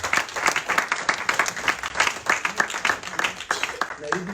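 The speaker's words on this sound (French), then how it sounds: "Kun je applaudisseren voor je God?" A church congregation applauds together in a rapid, steady burst of clapping that stays fairly even throughout, moderately loud and close, with voices faintly mixed in.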